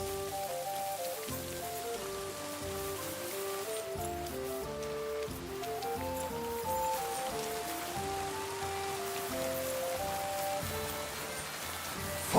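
Rain in the Kingdom Come: Deliverance II video game, a steady patter of drops on surfaces under soft melodic music, faint and continuous throughout, with no talk.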